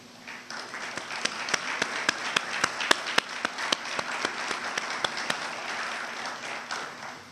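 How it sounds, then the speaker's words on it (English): A room full of people applauding at a city council conference center groundbreaking, with sharp individual claps standing out in a steady, even rhythm before it tapers off. "please stand so we can give you a round of applause"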